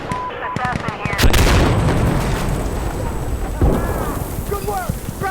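Gunship strike explosions in the video game Insurgency: Sandstorm, heavy booming blasts and rumbling gunfire that swell loudly around the middle, mixed with game chatter and radio voices.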